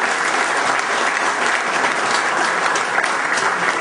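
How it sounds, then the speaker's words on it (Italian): A seminar audience applauding steadily, dense and loud clapping that holds evenly throughout without letting up. "Facciamo un bel applauso."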